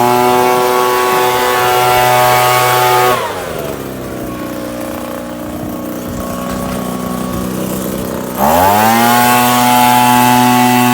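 A Chinese-made petrol leaf blower runs loud and close to blow barley dust and chaff off a Massey Ferguson 487 combine harvester, a steady engine drone that drops to a lower idle for a few seconds and then revs back up.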